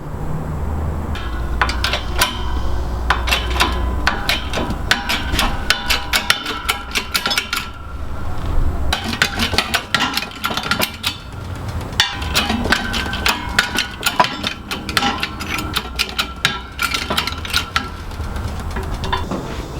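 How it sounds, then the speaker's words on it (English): Studs being pressed out of a Vanagon driveline part with a shop press in a garage: a dense, continuous run of sharp metallic clicks, taps and creaks, close and fairly loud, with no talking. "I'm going to press these studs out"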